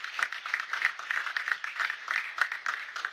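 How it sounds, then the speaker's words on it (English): Steady applause from a crowd at a military media engagement event, for the Chief of Defence Staff, dense overlapping clapping at even loudness throughout, heard from a moderate distance. "please let's give the Chief of Defense Staff a resounding round of applause for his wonderful work"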